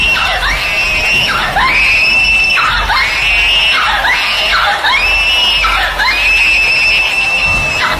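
A woman screams repeatedly in rising, sustained wails over a dense bed of crowd noise and applause during a magic show in a horror drama, loud and close.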